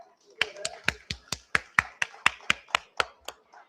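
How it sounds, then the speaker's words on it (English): About a dozen sharp, evenly spaced claps sound at a librarians' convention, a small audience clapping in a slow steady rhythm, crisp and close rather than a full roaring applause. "Please join me with a big round of applause for the sir."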